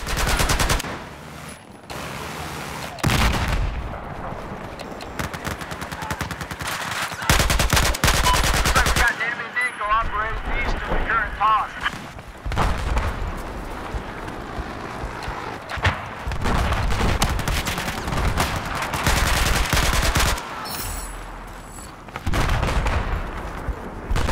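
AN-94 assault rifle fire in the Battlefield 4 video game, loud rapid bursts and sustained volleys packed densely across the scene with explosive booms and battle noise, occasional in-game voice lines.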